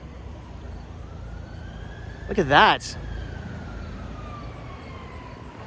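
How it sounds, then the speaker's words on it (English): A police car siren wails past near a flooded bridge in Schwenksville, Pennsylvania, a short rising-and-falling sweep lasting under a second over steady traffic noise, with a person speaking briefly nearby. "Oh, it's actually police coming by."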